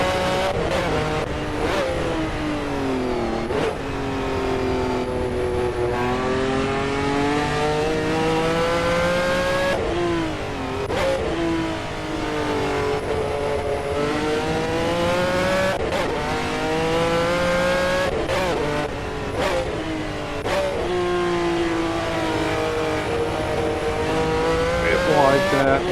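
Race car engine at Brands Hatch in Assetto Corsa, a loud continuous roar rising and falling through gear changes and repeated revving, with brief drops between pulls and faint tire squeal.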